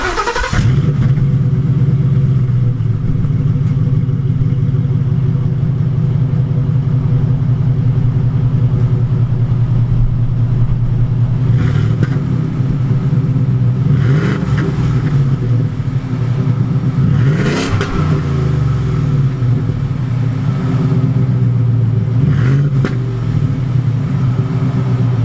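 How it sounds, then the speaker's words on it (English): A single-cab Ford F-150 with a Coyote engine idles with a deep, steady exhaust rumble, broken by several loud throttle revs that rise and fall, close by with no talking. "So let's check out this exhaust real quick."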